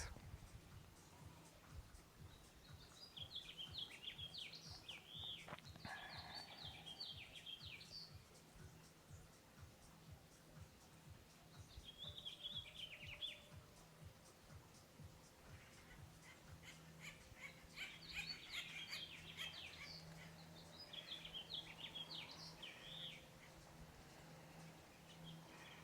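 Faint bird chirps and trills come in scattered bursts outdoors, set over a low steady hum and quiet background noise.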